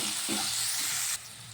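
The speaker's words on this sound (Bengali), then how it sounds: "মশলাটা ভালো করে ভাজা করে নেব।" Ginger paste, cumin powder and slit green chillies fry in a pan, giving a soft, steady sizzle with light stirring, then the hiss drops off abruptly near the end.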